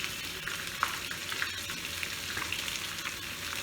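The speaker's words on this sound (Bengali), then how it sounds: "তাহলে মাছগুলো ভাজা হয়ে যাক" Pieces of katla fish frying in hot oil in a pan, a steady bright sizzle with small pops and crackles throughout, close and without talk.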